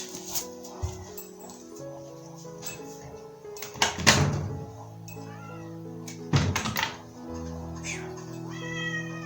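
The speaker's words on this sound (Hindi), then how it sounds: "मेरी कैट आ गई" A house cat meows a few times close by, the calls rising and falling at intervals over a quiet tonal background.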